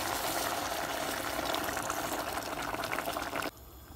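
A steady, broad rush of boiling water pouring into a pot of okra for about three and a half seconds, then cutting off abruptly to a quiet hiss.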